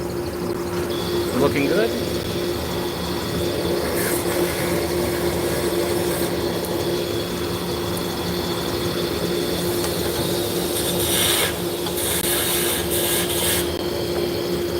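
Wood lathe spinning steadily in a workshop after the tailstock is backed off, a constant mechanical hum and whir running throughout, with someone speaking briefly over it.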